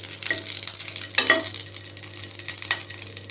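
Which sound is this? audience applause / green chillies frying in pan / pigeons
green chillies frying in pan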